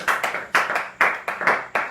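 Congregation at a Pentecostal church service clapping in unison, a steady rhythmic beat of loud, close hand claps repeating about every quarter second with no voices over it.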